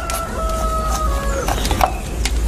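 A chicken clucks in a few quick bursts over a steady background hum, fairly loud and close.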